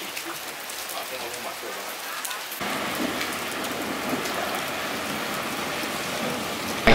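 Steady rain falls while bikers shelter on a tour in Purwakarta. A dense, even hiss of rain on a surface grows louder partway through and carries on without a break.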